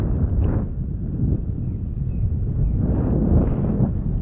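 Steady wind at a seaside port rumbles and buffets against the microphone, a low continuous roar with gusts swelling and easing.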